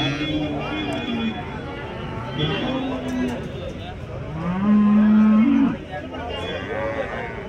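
Punganur cattle at a cow and bull market moo several times, with one long, loud drawn-out call near the end, over steady crowd murmur and nearby talking.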